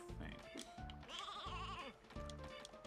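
A sheep in the video game Space Station Silicon Valley bleats in a string of wavering, nasal calls, fairly quiet and heard alone with no talk.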